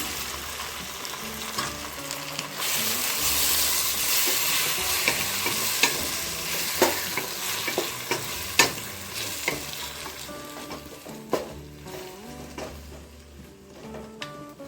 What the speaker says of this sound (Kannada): ಇದನ್ನು ಕೂಡ ಈಗ ಚೆನ್ನಾಗಿ ಫ್ರೈ ಮಾಡ್ಕೊಳ್ಳೋಣ